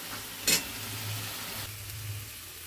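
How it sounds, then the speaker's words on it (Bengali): Egg and potato with cauliflower curry sautés in a pan with a steady soft sizzle, one sharp scrape of a spatula early on, close with no talking. "এটা দিয়ে একসঙ্গে আর একবার ভালো করে কষে নিই।"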